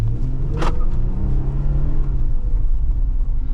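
A Jeep Wrangler with a V6 engine accelerates uphill over uneven ground, its loud, close engine roar holding steady for several seconds with a brief sharp whine early on.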